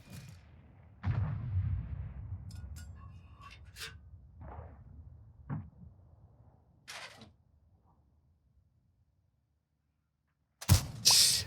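Tank cannon shots in the tank game Centurion Action X: several sharp booming reports spaced irregularly over quiet stretches, ending with a loud burst, with no talk over them.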